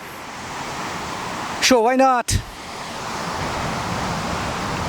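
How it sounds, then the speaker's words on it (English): Runchet Khola waterfall (Runchet River Waterfall) in Gorkha District, Nepal, pours as a steady broadband rush of water throughout, briefly interrupted by a short spoken phrase near the middle. "It is Runchet Khola Jarana or Runchet River Waterfall"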